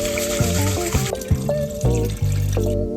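Brown rice is rinsed under running water, with sloshing, dripping and gurgling pulses close by, several uneven splashes over a few seconds and no talk.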